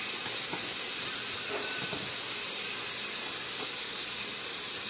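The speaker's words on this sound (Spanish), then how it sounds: "Mientras estamos sofriendo el tomate" Tomato sautéing in a pan for cabbage soup, an even, low hissing sizzle that holds steady throughout, fairly quiet and close, with a few faint clicks and no talking.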